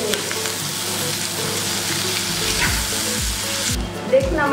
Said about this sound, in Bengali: এখন আমি শাকের সাথে সবগুলো উপকরণ খুব ভালোভাবে মিশিয়ে কিছুক্ষণ নেড়ে ফেলি।